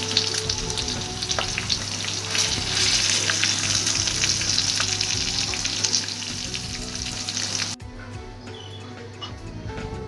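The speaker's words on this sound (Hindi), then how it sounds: "अब निकाल लेंगे और बाकी का चिकन भी हम फ्राई कर लेंगे।" Chicken pieces fry in a pan with a loud, steady sizzle and crackle that fills most of the stretch, then drops to a quieter hiss near the end.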